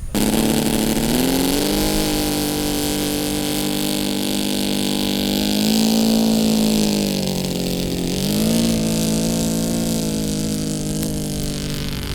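Quarter-scale balsa Sopwith Pup model airplane engine hums loud and close with a steady buzzing drone, its pitch dipping and rising a few times as the throttle shifts.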